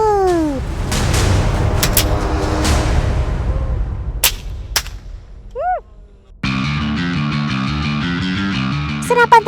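A scoped rifle fires a few sharp shots among booming impacts, followed by a brief animal-like cry and then dense music-like tones, with a voice over parts.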